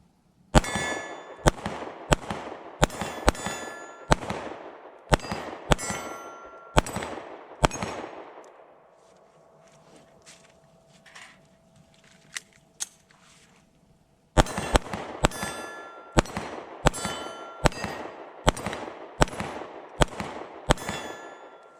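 A Sig P365 pistol fires quickly at steel targets, each sharp report followed by a metallic ring. The first string is rapid, then a quiet pause for several seconds, then another brisk string of shots.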